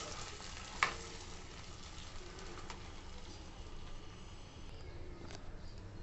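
Rava payasam being stirred in a pan, a quiet, steady low bubbling and soft scraping with a single sharp clink near the start, faint and without talk.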